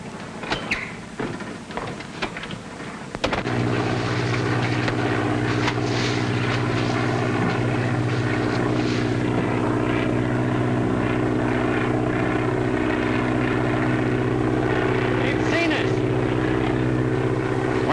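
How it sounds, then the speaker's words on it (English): A propeller airplane flies overhead in a 1939 film scene, its steady droning engine roar rising after a few seconds and then holding loud and constant to the end. "There's a plane coming."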